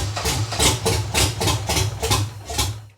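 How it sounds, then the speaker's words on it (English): A 6.0L V8 in a BMW idles rough on only three cylinders, its uneven chugging pulses thumping about twice a second with a deep, lumpy, tractor-like beat, close and loud without talk. "The car still sounds like a tractor."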